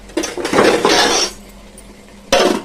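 A spoon stirring chicken biryani rice in a pot, loud close scraping and clattering against metal in two bursts separated by a quiet pause, no talking.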